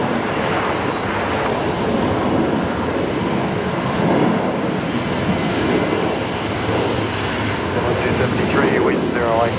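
A Virgin Australia Boeing 737-800 jet on the runway at Brisbane Airport gives off a continuous broad engine roar that holds steady throughout, with voices partly over it.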